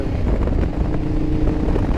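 A 2012 Ducati Diavel motorcycle on the move, its loud exhaust giving a dense, aggressive low rumble mixed with heavy wind buffeting against the microphone, steady and close throughout.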